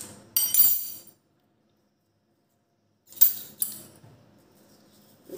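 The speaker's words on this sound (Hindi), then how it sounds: "इसको स्पून से निकाल लेते हैं इस तरीके से" A metal spoon scraping and clinking against a container while scooping out gel for a homemade beauty treatment, two short bursts of clatter close by, separated by silence.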